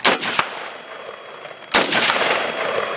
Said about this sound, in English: You want to go ahead and fire a couple shots?